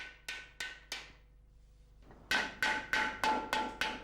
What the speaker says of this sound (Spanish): la superficie de la marmita, Juan la vuelve a aplanar con el mazo de madera.